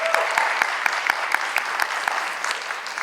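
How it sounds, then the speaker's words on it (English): A theatre audience gives a warm round of applause to welcome a guest, a steady wash of many clapping hands, moderately loud with a few sharper claps standing out. "can we please give another warm round of applause and welcome to José Cruz González."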